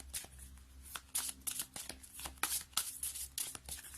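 Tarot cards being shuffled by hand: a quiet, continuous riffle of papery flicks and soft slaps with no talk.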